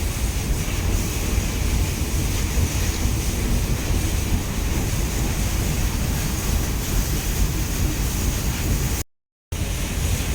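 Steady roar of ocean waves mixed with gusting wind buffeting the microphone on a cruise boat near Queenstown, continuous and loud, with a brief dropout near the end.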